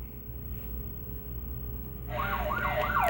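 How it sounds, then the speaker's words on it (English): A siren signalling that a diamond has been found starts up abruptly partway through, a loud wailing, rapidly warbling tone that rises over a quiet room background and keeps cycling to the end. "That siren? It means the diamond's been found."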